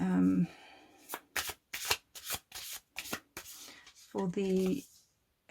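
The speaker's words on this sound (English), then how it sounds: "I'm just going to pull one more card for the" Tarot cards being shuffled and drawn during a reading, a series of soft papery riffles and slaps in short bursts, with a voice speaking briefly at the start and near the end.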